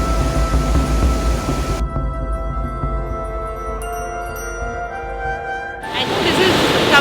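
Turbulent, muddy water thunders over Iguazú Falls on the Argentina–Brazil border, a loud roaring wash that dips and thins in the middle before surging back at full force.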